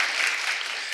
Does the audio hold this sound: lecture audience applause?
yes